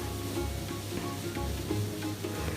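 Cooked minced beef sautés in a pan for banana rolls, a faint continuous sizzle with light stirring scrapes and no talking.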